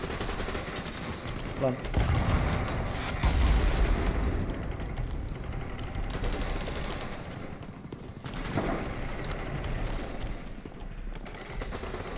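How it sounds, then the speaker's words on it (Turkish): Video game BattleBit Remastered battle with heavy gunfire coming from all sides, a constant dense roar of automatic fire and distant blasts filling the scene, while voices talk over it. "Her taraftan mermi geliyor."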